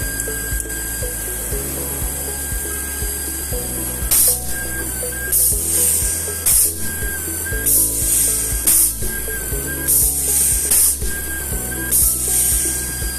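Electroweld SP 40P pneumatically operated rocker arm spot welder joining 2 mm plus 2 mm thick parts, a steady machine hum with repeated sharp hissing air bursts and clacks from the welding cycles, no talk.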